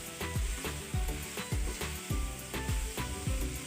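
Chicken liver (kaleji) frying in a pan, a steady hiss and sizzle with a spatula scraping in a regular rhythm roughly every half second, close and alone with no talk.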